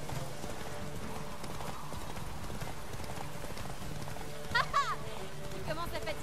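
Rhythmic hoofbeats of a galloping horse in The Witcher 3 pound steadily beneath game music, with a brief whinny-like cry near the end.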